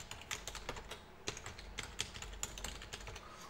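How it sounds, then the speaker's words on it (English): Someone types a username on a computer keyboard: quiet, close, uneven key taps in short bursts with no talking. "So I'll type in the username"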